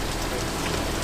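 Steady rain pours down in a dense, even hiss during a police arrest outdoors, loud and close with no break across the moment.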